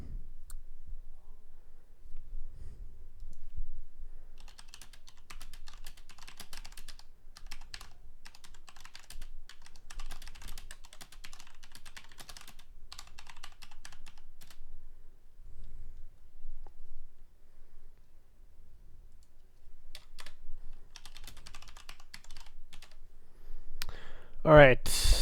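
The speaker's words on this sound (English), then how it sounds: "ASMR keyboard, right?" Sparse key clicks on a computer keyboard at close range, tapping in irregular bursts with pauses and a louder clatter near the end, while people talk quietly now and then.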